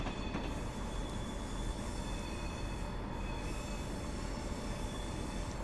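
A Class 170 DMU diesel multiple unit running in Train Simulator 2015, a steady loud rumble of engine and wheels on rail with a faint high squeal, continuous throughout.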